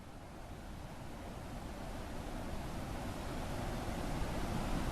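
Floodwater rushing in the game Even The Ocean, a steady broadband wash like heavy surf or a torrent that holds constant and swells slightly louder toward the end, with no voices.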